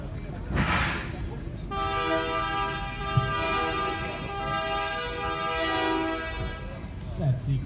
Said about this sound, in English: That sequence of horns you may have just heard